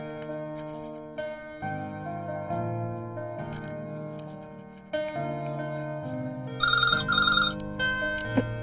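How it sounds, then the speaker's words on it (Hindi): A telephone rings indoors with a melodic electronic ringtone, a series of steady tones repeating over several seconds and growing brighter and louder toward the end, heard alone without talk. "जरा फोन उठाना"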